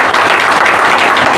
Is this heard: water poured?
no